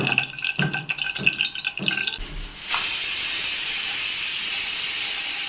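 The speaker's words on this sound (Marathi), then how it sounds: "पाच शिट्ट्या झालेल्या आहेत मी कुकर करते बंद" A pressure cooker cooking a cashew and pea curry clatters briefly, then bursts into a loud, continuous hiss of escaping steam that holds strong to the end.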